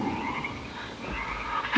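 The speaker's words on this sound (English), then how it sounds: "all the little frogs are so weird" A chorus of small frogs croaks continuously outdoors, a dense, overlapping rasping pulse at moderate volume with no talk over it.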